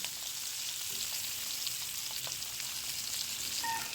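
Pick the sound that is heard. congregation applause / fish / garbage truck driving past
fish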